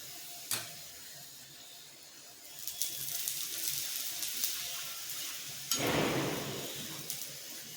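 Lili tuver paratha frying in oil on a hot pan, a soft, low sizzle that swells in short bursts as the flatbread is moved and flipped.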